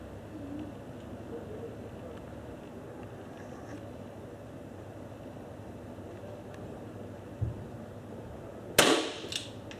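Pistol target shooting outdoors: after a long stretch of quiet ambience, a faint dull thud sounds, then one sharp, loud shot cracks near the end and decays quickly.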